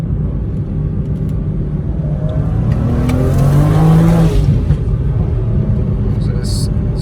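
A BMW 335i with its muffler reinstalled revs and downshifts, a fairly muted exhaust note that rises in pitch and then drops back, heard close from inside the car with a voice talking over it.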